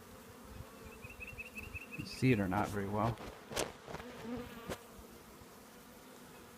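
Honey bees buzzing around an open hive as a new colony is installed, a steady insect hum with a few louder close passes, while a person talks over it.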